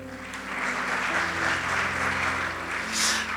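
A congregation at a church service applauds for the Lord, a dense, steady wash of clapping from a large crowd that holds at an even level throughout, with a faint low hum beneath.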